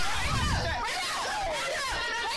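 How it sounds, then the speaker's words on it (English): Passengers on a bus shout over one another, a loud, constant tangle of raised voices close by with no pause. "Now everybody's yelling and stuff."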